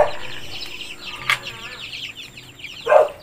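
Native free-range chickens on a Basilan farm with pigs and vegetable plots give scattered, soft clucks close by, with a couple of sharper louder calls near the start and end against a quiet outdoor background.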